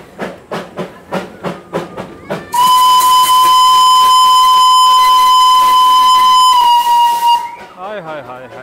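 A Darjeeling steam train chuffs in rhythmic puffs, then its whistle blasts loud and sustained for about five seconds over heavy steam hiss before fading, with voices briefly heard at the end.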